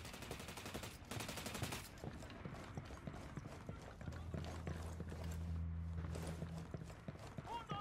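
Gunfire in the video game Ghost Recon Wildlands, a string of sharp rapid shots under busy game sound and a low droning vehicle hum, with short bursts repeating over several seconds.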